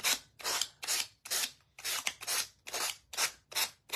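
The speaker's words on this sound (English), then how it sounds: "work our way around, sanding that edge" Hand-sanding along the edge of a wooden mushroom shelf sitter, a rhythmic rasping scrape of about nine close, even strokes, each a short burst with brief pauses between.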